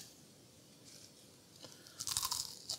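Thin spiralized fries, salted and slightly overcooked, crunched between the teeth in a short close burst of crisp bites after a quiet moment.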